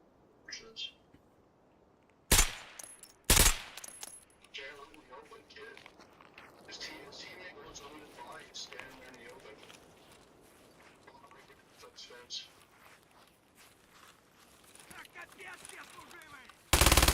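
Gunfire in a fast shooter video game: two loud sharp shots early, scattered quieter shots and footsteps in the middle, and a loud final burst at the end, with game sounds throughout and no talking.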